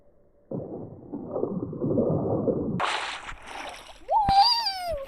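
A burst of splashing water lasting a couple of seconds, followed by shorter noisy bursts and a rising whistle-like tone at the end.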